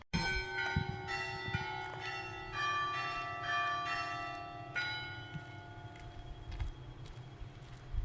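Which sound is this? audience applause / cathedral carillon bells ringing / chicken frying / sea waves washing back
cathedral carillon bells ringing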